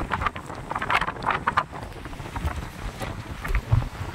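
Strong gusty wind on a mountain near a campsite at Mt. Ugo buffets the microphone in loud, uneven rumbling bursts, with no voices, just continuous roaring air.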